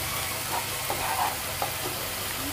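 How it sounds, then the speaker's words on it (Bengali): Tomato paste being stirred in a frying pan, a dense bubbling sizzle with soft scraping strokes of a spoon at irregular intervals, no one speaking. "এর মধ্যে টমেটো পেস্টটা দেওয়া হচ্ছে। দেওয়ার পরে এটাকে ভালো করে একটু নেড়ে চেড়ে নিতে হবে।"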